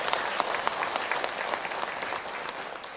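Steady applause from a lecture audience at an Indonesian religious talk, dense and continuous throughout with no voices standing out.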